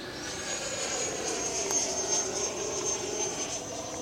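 An FMS Viper 90mm EDF model jet rolls at full throttle, its ducted fan giving a steady, loud, high-pitched whine with a broad rushing roar that swells slightly throughout.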